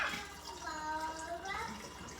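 Water kefir pours into a flip-top bottle as a close, steady liquid stream, its pitch rising as the bottle fills.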